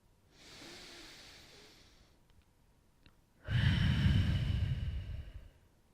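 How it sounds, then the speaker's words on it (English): Deep breathing during a yoga session: a soft, long inhale followed after a pause by a louder, fuller exhale that fades slowly, close and with no talking. "Take one more breath here."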